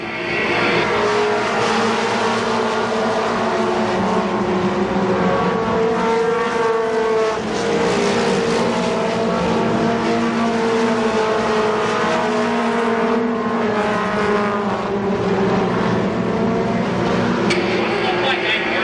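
Late model stock cars race at Columbus Motor Speedway, engines roaring loud and continuous throughout, with a commentator talking over the pack's sustained drone.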